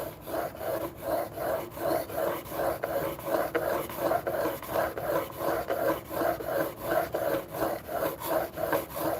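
Chestnut wood being ground by hand gives a rhythmic rasping scrape, repeated back-and-forth strokes at a steady pace, close and moderately loud with no talking.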